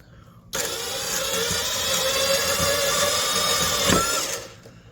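Vevor 20V brushless compact 2.5-inch band saw with an 18-tooth blade making a slow cut: the motor kicks in abruptly, then a steady whirring hum with faint cutting rasp runs for about four seconds before winding down.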